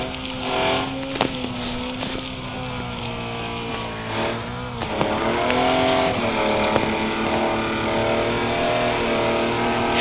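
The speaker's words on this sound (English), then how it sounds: "She's a mud truck." A mud truck drives across a bridge, its engine droning and rising in pitch with a surge about halfway through, loud and continuous with no talk.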